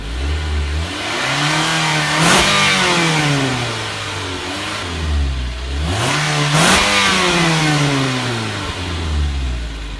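A 2017 Mitsubishi Outlander SUV engine revs loudly twice through the exhaust, climbing sharply and dropping back to a rumbling idle between bursts.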